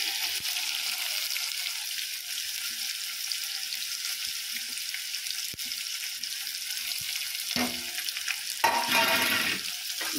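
Onions frying in a pan for chole curry, a continuous close hissing sizzle with brief stirring scrapes near the end.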